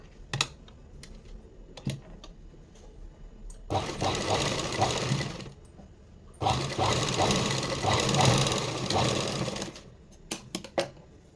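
Sewing machine stitching a puff princess cut blouse, running in two sustained loud whirring bursts of about two and three seconds, with sharp clicks and taps before, between and after.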